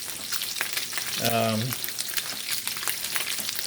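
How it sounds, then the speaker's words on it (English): Kielbasa browning in a Lodge enameled cast iron pot, a steady crackling sizzle throughout with a brief tonal scrape or stir midway, close and moderately loud. "Okay, y'all, we got some good browning going on."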